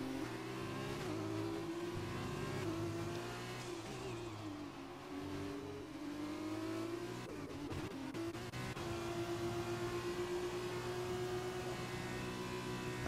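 An F1-style race car at high speed on the Spanish GP circuit in an Xbox racing game, a steady high-pitched engine whine that dips and rises through a corner, continuous and fairly quiet.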